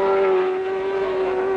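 1967 Formula 1 race cars at the Nürburgring, a strong steady high-pitched engine whine holding one sustained note, moderately loud and unbroken for the whole stretch.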